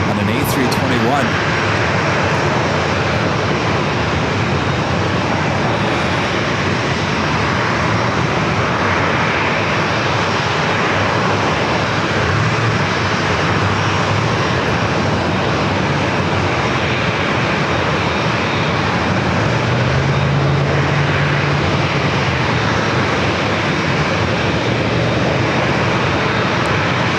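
An American Airlines Airbus A321 passenger jet arriving at San Diego airport, a loud, continuous broadband engine roar that fills the whole stretch without letting up, while a voice talks faintly over the top.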